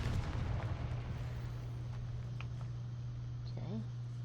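A Confringo fire spell detonates in a Harry Potter-style wizarding video game, a loud booming blast over a steady low game hum, followed by a few faint magical chimes and a rising sweep near the end.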